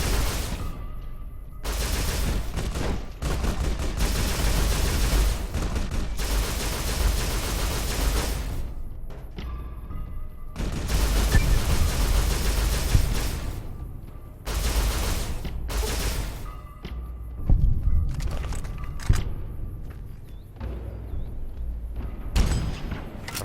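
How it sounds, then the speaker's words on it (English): Marksman carbine fire in Fallout: New Vegas, loud bursts of rapid shots separated by short silent gaps, sometimes single cracks, sometimes sustained volleys. "Sounds like a marksman carbine."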